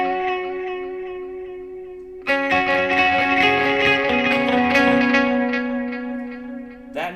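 An electric guitar plays a riff through dotted-eighth and eighth-note delays. A long sustained note gives way to a bright burst of rapidly repeating, echoing notes that cascade over one another before fading, with no talking.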